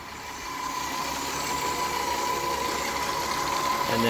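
A VW Bora 4motion, a Mk4 model, idles warm at about 90 degrees after ten minutes of running, a steady close mid-pitched engine hum with even vibration and no revving, alone without voices.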